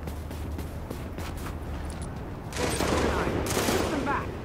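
Gunfire in the shooter game Tom Clancy's The Division, a dense crackling volley of rapid shots that grows louder and heavier partway through, with voices shouting during the firefight.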